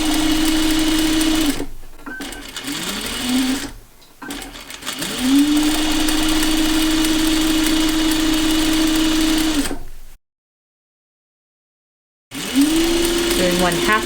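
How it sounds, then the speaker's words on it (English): A sewing machine runs gathering stitches on its longest stitch setting, adding neckline ruffles: a steady, close mechanical whir in several long runs with brief pauses and a stretch of silence. "And back to the machine, and I'm going to do my gathering stitches"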